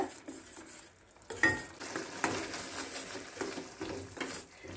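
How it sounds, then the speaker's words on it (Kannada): Green masala simmers and thickens in a pan for rice ball green masala, a soft continuous bubbling sizzle broken by a few light scrapes and stirs of a spoon, close and fairly quiet with no talk. "ಒಂದು ಸ್ವಲ್ಪ ಕುದಿಲಿ. ಅದು ಸ್ವಲ್ಪ ಗಟ್ಟಿಯಾಗಲಿ ಮಸಾಲ."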